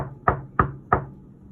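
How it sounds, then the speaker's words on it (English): Three firm knocks on an office door, evenly spaced about a third of a second apart, close and distinct against a quiet background. "he knocked on my new office door"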